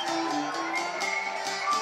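A large crowd of desperate refugees on a harbour quay cheers at the sight of rescue ships, a continuous, dense roar of many voices with a few higher shouts rising above it, steady and fairly distant.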